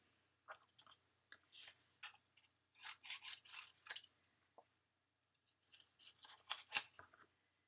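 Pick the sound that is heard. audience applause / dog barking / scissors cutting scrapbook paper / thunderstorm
scissors cutting scrapbook paper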